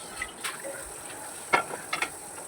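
Tap water running briefly while a frying pan is washed in a kitchen sink, a few soft splashes and clinks over a faint steady hiss, quiet and close.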